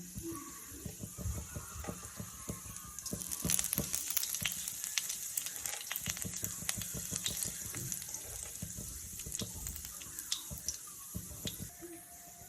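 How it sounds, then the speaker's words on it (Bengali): Cumin seeds and dried red chili sizzle in hot oil in a kadai as tempering for egg bhurji, a steady close hiss with scattered small crackles and no talk. "এবার আমি জিরে আর লঙ্কাটা দিয়ে দেবো ফোড়নের জন্য।"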